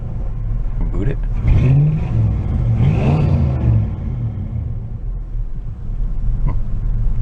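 An Oldsmobile Cutlass that sat unused for five years idles roughly and revs repeatedly, the engine stuttering and rumbling up close, with a person talking over it.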